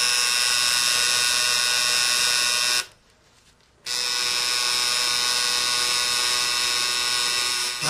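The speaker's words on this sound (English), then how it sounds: "we're going to get ready to do the fill-in work on this" Tattoo machine buzzing loudly and steadily during fill-in work on skin, a close electric drone that cuts out for about a second and then resumes.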